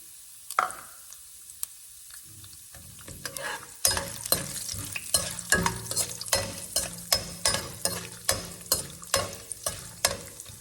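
Urad dal, chana dal and cashews frying in a pan for quinoa gongura rice: a quiet sizzle gives way to rhythmic spatula scrapes and stirs repeating about once a second, close and clear.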